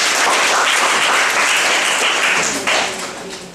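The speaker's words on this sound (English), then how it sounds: "give applause to Alex's presentation" Applause from a presentation audience, a dense steady wash of many hands clapping at close range, holding loud for about two and a half seconds before tapering off.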